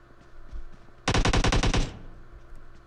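A burst of automatic gunfire in the mobile battle royale game PUBG Mobile fires as one rapid, evenly spaced string of about ten loud shots lasting nearly a second, preceded by quieter game ambience.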